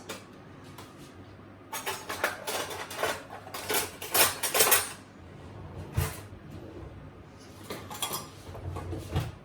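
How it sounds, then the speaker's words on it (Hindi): Fried sliced onions tip into a pot for mutton and okra curry, giving several clustered bursts of metallic clinks and scraping from utensils against cookware, near and fairly loud, with quieter gaps between. "अब इसके अंदर हम डालेंगे तली हुई स्लाइस्ड प्याज।"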